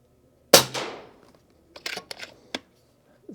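A single sharp, loud crack from an FX King Synthetic air rifle firing an 18-grain JSB pellet rings out close by with a short decaying tail, followed by a few softer mechanical clicks of handling or cycling the action.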